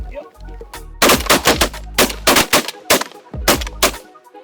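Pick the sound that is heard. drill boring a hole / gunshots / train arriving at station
gunshots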